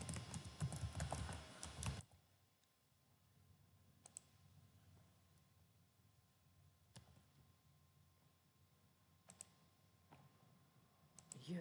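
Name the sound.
typing on a computer keyboard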